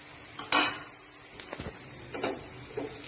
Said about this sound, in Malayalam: എല്ലാം കൂടി ഒന്ന് ഇളക്കി യോജിപ്പിക്കുക